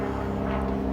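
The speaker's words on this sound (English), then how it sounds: "Sorry about the plane, I can't do anything about that." A steady, droning engine hum fills the moment, like a propeller plane passing overhead, loud and continuous with no speech.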